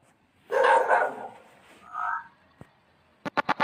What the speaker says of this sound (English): A guard dog, hearing the barking of other street dogs, gets attentive and comes out of its kennel for surveillance.